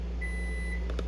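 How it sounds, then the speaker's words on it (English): A microwave oven goes off in a home kitchen while butter melts inside, giving one short, faint electronic beep near the end over a steady low appliance hum, with no talking. "My microwave's going off, so let me go fix that."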